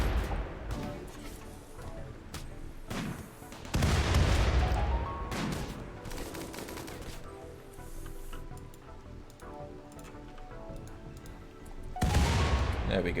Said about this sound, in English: Oh no, you're just shooting our own guys here.